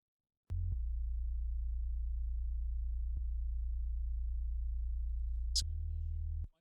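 Sub bass in a mix with the effect switched on: a loud, steady low tone held for about six seconds, stepping in pitch a couple of times, with a brief high tick near the end before it cuts off.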